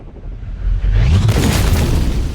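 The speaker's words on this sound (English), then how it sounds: "so the attackers throw a hand grenade." A hand grenade detonates against an armored limousine, producing a loud, close boom that swells into a sustained, rumbling roar lasting a couple of seconds.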